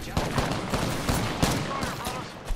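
Apex Legends gunfire crackles in a dense burst of rapid shots over a busy game soundscape, sharp reports recurring throughout at close range with no let-up.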